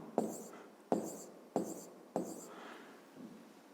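Pen or chalk strokes mark numbers during a fifth-grade maths exercise, four distinct scratchy writing bursts in a slow even rhythm, close and quiet with no talking.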